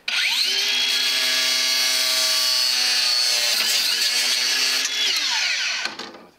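Wood is sawn in a miter box while fitting a wooden-framed pool liner. A loud, continuous cutting noise with a sustained whining tone runs for about six seconds, then trails off abruptly.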